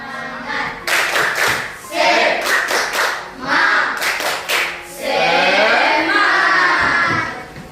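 Classroom students doing a patterned group clap, sharp bursts of hands in rhythmic sets mixed with children's chanting voices, then a sustained burst of clapping and calling near the end.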